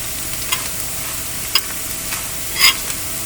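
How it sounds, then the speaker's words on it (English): Steady sizzling of dried red chilies frying in cooking oil in a pan, with occasional sharp pops and crackles, close and continuous, no voices. "We're frying the red dried chili peppers in cooking oil."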